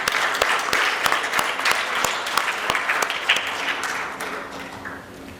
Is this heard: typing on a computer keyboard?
no